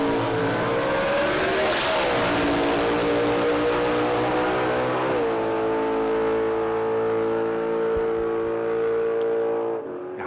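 A drag racing car at Willowbank Raceway roars with a loud, continuous engine note, rising in pitch as it accelerates down the strip.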